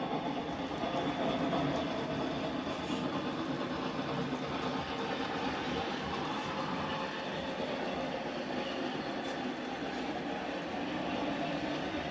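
A model passenger train runs along a layout, led by a Baldwin AS616, a continuous rolling rumble and rattle at steady level throughout, with no speech over it.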